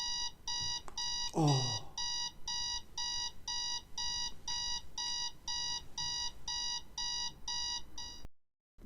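An old, basic alarm clock rings with a rapid, regular train of loud electronic beeps that repeats steadily for several seconds and then cuts off abruptly. A voice briefly exclaims near the start.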